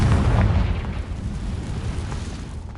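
A Confringo spell explosion in the video game Hogwarts Legacy lands as a loud, booming blast at the start and then fades into a long, rumbling decay with no talk over it.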